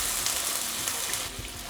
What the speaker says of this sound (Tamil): இப்போ இதில் தண்ணி விட்டுடலாம்.